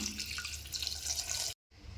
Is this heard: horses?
no